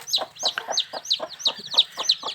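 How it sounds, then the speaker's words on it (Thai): Chicks and hens on a Thai farm at evening, a rapid run of high chirps and clucks repeating in quick succession, close and fairly loud with no talk. "นี่คือลูกไก่นะครับ"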